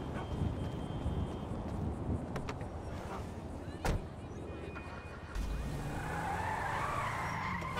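In the GTA 5 video game, a car drives along with a sharp tire skid partway through, then engine noise rises near the end. Voices can be heard over the driving.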